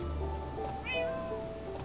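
A Minecraft cat meows once, a clear rising-falling cry in the middle, over steady background game music and ambient tones.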